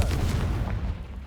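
Confringo blasting spell explosion in Hogwarts Legacy: one short, heavy booming burst that decays quickly into a low rumble, loud and close with no talking.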